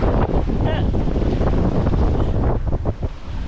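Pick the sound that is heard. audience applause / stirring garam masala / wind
wind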